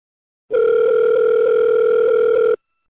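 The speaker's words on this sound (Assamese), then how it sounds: "ফোন এটাকে কৰোঁ ৰ" A telephone tone sounds while a call is being placed, one steady unbroken tone lasting about two seconds, loud and close, alone after brief silence.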